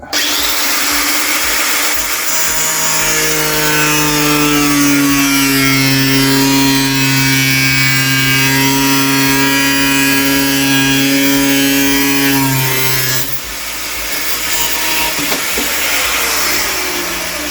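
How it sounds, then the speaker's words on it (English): An angle grinder fitted with a cutting disc slices through metal during restoration work on a Reliant Regal Supervan 3, a loud sustained whine with steady tonal harmonics for about thirteen seconds before the disc is lifted and winds down. "So I've got a cutting disc, we'll just run along there, very easy to cut through."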